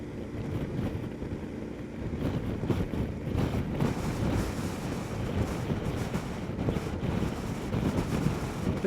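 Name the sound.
gusty wind while riding KTM 1290 Adventure S motorcycle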